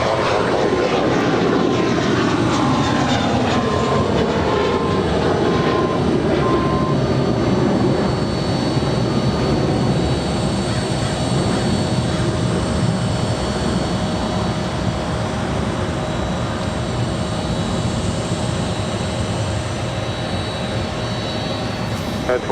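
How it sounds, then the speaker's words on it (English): A United Airlines Boeing 777-200 jet, Flight 2427 to Houston, takes off from runway 25 right at LAX with a loud, sustained engine roar whose pitch sweeps as it passes and climbs away. "Our next departure is United Airlines Flight 2427 heading to Houston, Texas. 777-200."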